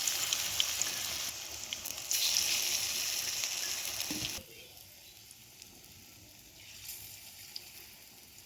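Potato chop fritters fry in hot oil with a loud, steady sizzle that drops off sharply partway through, leaving a quieter, softer bubbling for the remaining seconds.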